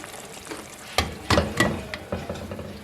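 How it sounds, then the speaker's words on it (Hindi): Cooked keema matar, minced meat with peas in an oily gravy, being served out of the pan with a few distinct scrapes and clinks of a spoon among soft background rustle, with no talk. "और अब मैं इसको डिश आउट करूँगी।"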